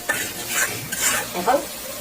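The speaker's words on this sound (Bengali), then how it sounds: "চিংড়ি মাছ মশলার ভিতরে ভাজা ভাজা হয়ে গেছে" Loud, close sizzling of shrimp frying in spice paste in a pan, with bursts of crackle and stirring scrapes throughout.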